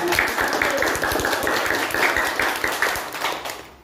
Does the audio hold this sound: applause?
yes